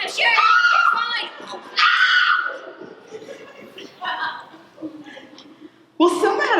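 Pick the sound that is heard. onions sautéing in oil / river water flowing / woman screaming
woman screaming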